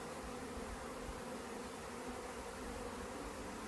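A swarm of bees being shaken down into a box fills the air with a steady, dense buzzing hum, close and continuous throughout, with no voices.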